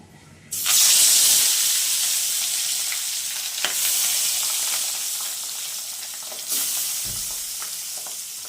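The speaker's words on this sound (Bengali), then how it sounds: "তেল গরম হয়ে গেছে এখন কড়াইতে মাছ দিয়ে দেবো" Hot oil erupts into a loud, crackling sizzle as pabda fish goes into the pan, then settles into steady frying with a second burst of spatter later.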